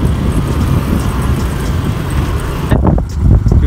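Car driven steadily on an open road during a driving lesson: continuous broadband road and engine rumble with tire roar, loud and close, shifting slightly near the end, no speech.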